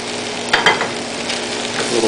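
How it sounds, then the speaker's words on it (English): Zucchini and yellow squash sizzle steadily in a Dutch oven, a continuous frying hiss broken by a couple of sharp scraping stirs near the start. "Here we're going to be adding our zucchini and yellow squash to the Dutch oven."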